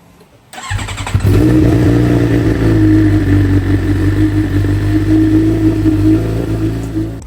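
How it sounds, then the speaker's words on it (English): A rebuilt 2019 Suzuki GSX-R750 sport motorcycle cranks briefly, fires up and settles into a loud, steady idle with a constant engine hum, close to the microphone. "I'm gonna go ahead and start the motorcycle up"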